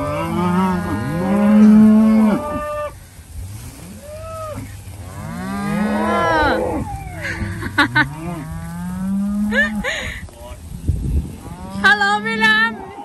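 Several cows moo loudly and close by on a Thai farm, long drawn-out calls overlapping one another, with a few brief mechanical clicks near the end.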